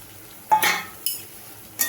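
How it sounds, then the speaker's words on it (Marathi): Sorghum flour being stirred into sizzling masala in a pan, with three distinct scraping stir strokes over a faint steady frying hiss, close and fairly quiet. "आता मी थोडंसं ज्वारीचं पीठ टाकते."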